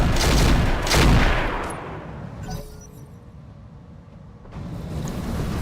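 Mech weapons firing heat rounds in the RogueTech video game: a loud burst of rapid heavy fire and crashing impacts, then a quieter lull before another blast of gunfire.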